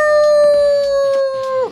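A person imitates a werewolf howl during a Minecraft roleplay, one loud sustained steady vocal tone held for over a second, then dropping off sharply at the end, alone without talk.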